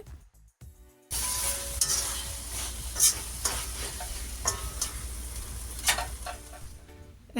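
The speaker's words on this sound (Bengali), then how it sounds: "এখন সব কিছু আমি খুব ভালোভাবে নেড়ে চেড়ে আরও এক থেকে দুই মিনিটের মতো মাছগুলো রান্না করে নিব" Fish pieces sizzle steadily in hot oil while a utensil stirs them around the pan, scraping strokes rising over the constant fry after a brief quiet start; no one speaks.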